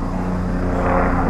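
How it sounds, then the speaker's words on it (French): Helicopter flying overhead in a quiet sky, a steady, loud rotor and engine drone with strong low harmonic bands holding evenly throughout. "c'est un hélicoptère même."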